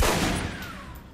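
A single pistol shot in the Alpha Protocol video game: one loud, close crack at the very start that decays into a fading ring and reverberant tail, with no talk.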